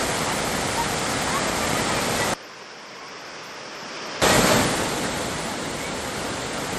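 Flash-flood water rushing after heavy rain in Idukki, a loud broadband roar that cuts to quieter ambience mid-way before the surging torrent returns.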